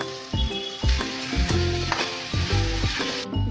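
Beans tip into a sizzling tempering in a pan for a beans and green gram bassaru, a loud, close frying hiss with stirring and clinks, plus rhythmic pulsing tones, and no speech.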